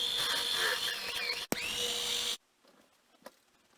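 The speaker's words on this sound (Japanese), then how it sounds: "各パーツをボルトで固定するため、ブスブスと穴を開けていきます" A power drill bores holes into aluminium parts for a handmade mini vise, a close high-pitched whine that briefly stops, spins up again, then cuts off into near silence with a faint tap.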